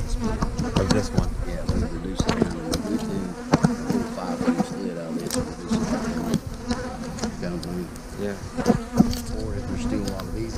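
A dense swarm of honeybees buzzes loudly and continuously around open hive frames, overlapping drones rising and falling as bees fly close past the microphone, with occasional handling knocks.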